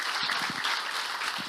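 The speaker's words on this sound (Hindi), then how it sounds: "मैं आपके लिए ताली बजाना चाहता हूं।" A church audience gives a short burst of applause, a steady wash of many hands clapping at moderate distance with no speech over it.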